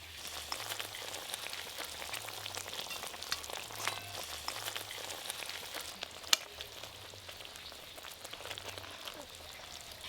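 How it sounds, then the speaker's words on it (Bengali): Gravy of a soybean omelette curry bubbles in the pot, a faint, steady simmering crackle with a soft low rumble underneath and one brief sharper click. "ঝোল সুন্দরভাবে ফুটে গেছে, ঝোল তো ফুটে গেছে"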